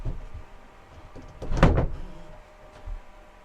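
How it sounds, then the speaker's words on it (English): The real door of a hunting deer stand swings and latches shut, one close clunking rattle with a sharp metallic lock sound rising in the middle, heard alone. "It's got a real door that locks."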